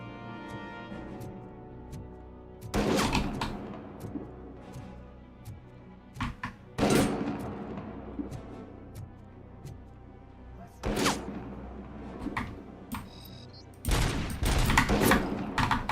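Gunfire and sniper bullets in RoboCop: Rogue City land as several loud bursts and sharp impacts spaced through a fight, with scattered single cracks and thuds in between and no voices.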